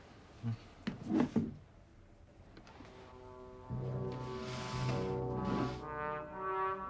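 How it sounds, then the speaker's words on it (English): A drawer slides open and shut with a few quick wooden knocks and scrapes early on, followed by a sustained tonal background with no further handling sounds. "This drawer runs easily, Hastings."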